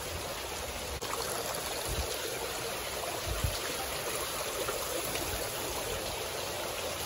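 Water fountains at an outdoor flea market give a soft, steady trickle and splash of flowing water. The sound is faint and continuous, with no talking.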